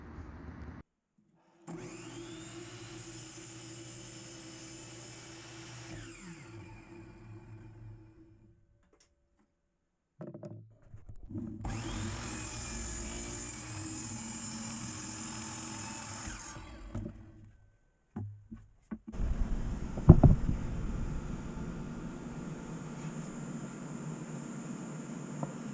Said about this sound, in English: now I'm going to be cutting up on the miter saw some of these trim pieces